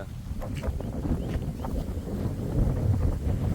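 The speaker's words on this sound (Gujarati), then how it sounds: "પવન થોડોક વધારે છે" Strong wind buffets the microphone in a steady low roar with gusty surges, outdoors on a farm among trees and mung bean fields, without other clear sounds.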